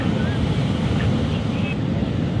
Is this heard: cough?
no